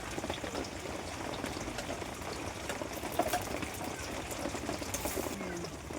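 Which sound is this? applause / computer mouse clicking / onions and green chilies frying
onions and green chilies frying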